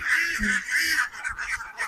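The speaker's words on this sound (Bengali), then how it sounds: "এখানে বড় হাঁস রয়েছে" Ducks on a small duck farm of about a hundred egg-laying birds quack in quick, overlapping bursts close by, several loud honking calls running together over under two seconds.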